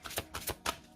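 A deck of Lenormand cards cut and riffled by hand, quick soft papery flicks in a brief burst of four or five close taps.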